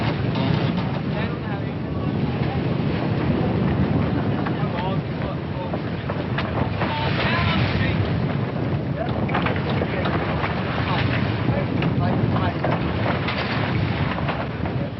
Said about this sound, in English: we asked for the wind, and here it is, gusting to a force 8 gale